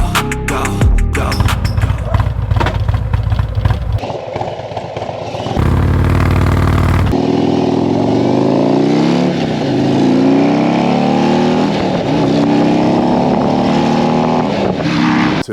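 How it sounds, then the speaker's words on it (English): Harley Davidson motorcycle engine running and revving up close, a steady loud rumble with rising and falling rev sweeps, preceded by a few seconds of other busy noise and a brief loud burst. "We're going to experience what it feels like to hear a Harley Davidson in action."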